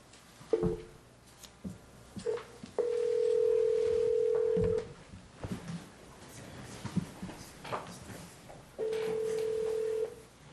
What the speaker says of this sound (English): Do you mind if I dial the number?